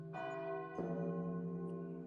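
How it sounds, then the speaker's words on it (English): Neighborhood church bells ring in Venice, two clear resonant strikes about half a second apart, their rich ringing tones sustaining and overlapping, with no voices. "We prefer the calming sound of neighborhood church bells, which have been ringing for almost 1900 years."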